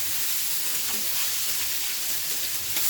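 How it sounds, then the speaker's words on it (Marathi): Fenugreek leaves frying in oil with green chilli and garlic for a village-style methi bhaji, a loud, steady close-up sizzle and hiss with faint stirring taps throughout. "तर लगेच त्यात मेथी टाकायची आहे."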